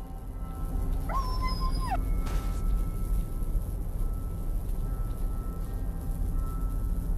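A dog in the Stalker video game, a single short whine rising and falling once, followed by a brief thud, over a steady low background rumble with no talk.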